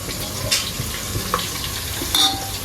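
Pieces of Gujarati patra, steamed colocasia-leaf rolls cut into chunks, sizzle and fry steadily in a pan, with a few soft stirring clinks and scrapes of a utensil over the continuous crackle.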